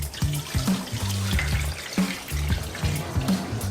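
Tap water runs steadily into a sink while a triggerfish is cleaned on a remote island, with splashing and clatter from hands and utensils, near and continuous.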